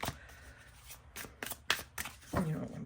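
A deck of cards being shuffled by hand, a few short bursts of riffling and snapping separated by brief pauses, close and fairly quiet.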